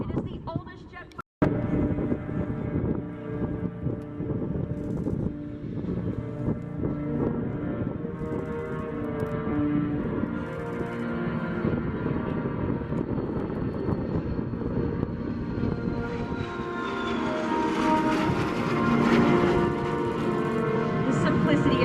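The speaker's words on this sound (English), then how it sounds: "you're watching the very first, the world's first single-engine jet fighter takeoff." A vintage Vampire single-engine jet fighter takes off at Oshkosh AirVenture, a steady, building jet roar that swells louder toward the end, with some wind noise on the microphone.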